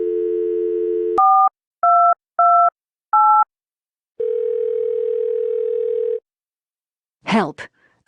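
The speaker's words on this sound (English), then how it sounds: "Insert dime to make a call." A payphone in the video game Thimbleweed Park gives a steady dial tone, then four short, evenly spaced dialing beeps, a long single tone, and a brief burst of electronic chatter at the end.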